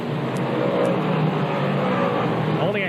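Modified race cars roar around the Fonda Speedway dirt oval during a night feature, a loud continuous engine drone from a packed field with a car passing close near the end.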